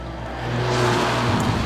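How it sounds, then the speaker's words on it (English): Mercedes A45 AMG hatchback engine revving, a loud rising drone that builds over the first half second and holds steady, with a brief pop near the end. "you could never accuse a car that sounds like this of being sensible"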